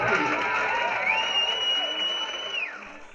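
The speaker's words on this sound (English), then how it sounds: "So give yourself a round of applause." An audience breaks into a round of applause with cheers and whoops, a continuous crowd roar that stays loud before easing toward the end, with a long whistle-like tone sounding over it.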